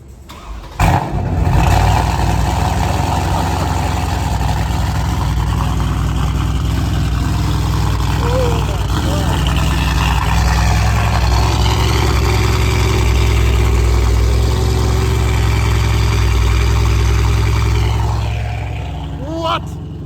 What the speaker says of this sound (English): This is the Zach Motorsport exhaust system with a new engine, and that is way louder than I remember it.